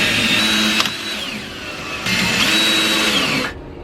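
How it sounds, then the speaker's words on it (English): A power drill drives screws into small feet on a camper van wall in two loud whirring bursts, each speeding up and then winding down, with a short pause between them and no talking. "I just started screwing these little feet in"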